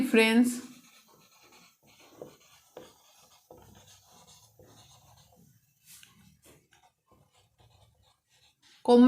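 Writing on paper or a board during a Class 10 arithmetic progression maths lesson: soft, intermittent scratching strokes fill a quiet stretch, with a teacher's voice at the start and end.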